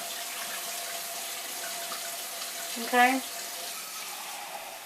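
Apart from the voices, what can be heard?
water running, about 4 cups for boiling chicken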